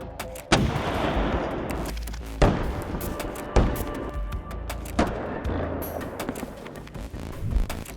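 A tank and other weapons fire heavily at infantry in war footage, with repeated sharp booming blasts every second or two over a constant rumbling background, loud and echoing.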